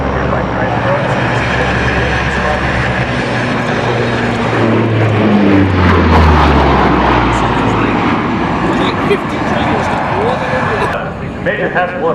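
An aircraft taxis into position at an air show, its engine droning loudly and steadily nearby, with a deep rumble shifting in pitch while a public-address announcer talks over it.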